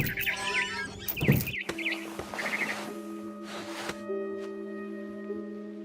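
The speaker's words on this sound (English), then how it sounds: "Then I heard chirping outside my window. It was a barn swallow going back to her nest." A barn swallow chirps outside a window in the video game What Remains of Edith Finch, with quick bright tweets clustered over the first couple of seconds, then quieter game tones.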